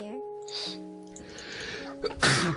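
One sharp, loud sneeze bursts out near the end, after a stretch of soft talk and background tones during a Minecraft gaming session.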